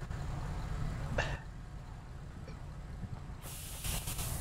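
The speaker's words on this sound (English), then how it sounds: "Now they're pepper oh, spraying." A steady hiss of pepper spray runs under a noisy video game soundscape, with a brief sharper burst early on and a brighter hissing surge near the end.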